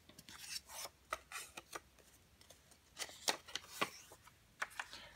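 Scissors cut squares out of paper in a series of short, crisp snips and rustles, close and quiet, repeated irregularly with brief pauses between cuts.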